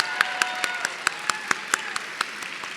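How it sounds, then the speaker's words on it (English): A dinner audience applauds, many hands clapping together in a warm, steady round that carries through the room for a few seconds. "round of applause for Pat"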